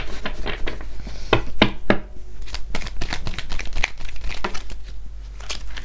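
Oracle cards are handled and shuffled in quick bursts of papery slaps and riffles, close and crisp, with brief pauses between flurries and no talking.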